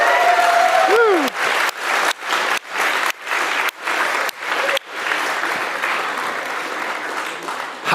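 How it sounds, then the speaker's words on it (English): An audience at a university game programming lab's final presentation claps and cheers. The applause breaks into short rhythmic bursts of clapping in unison, then settles into a sustained, fading round of applause, with a voice whooping near the start. "So I want to hear a big cheer for House of Meridian."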